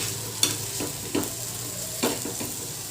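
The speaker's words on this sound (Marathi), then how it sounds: "खरडा मस्तपैकी तेलात परतून घ्यायचा आहे" Green chili kharda sautéing in oil in a pan, with a steady sizzle and a few scraping stirs of a spoon, close and with no talking.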